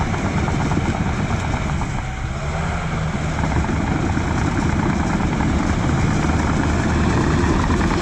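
A small dozer's 4-cylinder engine runs steadily and close by, a loud continuous rumbling drone that holds without a break through the whole stretch.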